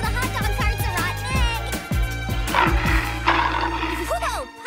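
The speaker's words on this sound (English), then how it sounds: "Whoa, Polly, is that your stomach?" A cartoon phone ringtone made of low, gurgling growl-like tones plays in a bouncy, repeating pattern in an animated kids' racing episode, loud and close, with a brief voice-like cry near the end.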